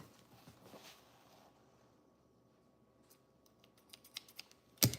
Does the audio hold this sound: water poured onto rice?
no